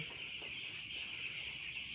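Broiler chickens in a poultry house, drinking water mixed with Gumboro vaccine, give a dense, continuous murmur of soft clucking and chirping. The sound is faint and steady, with no voices.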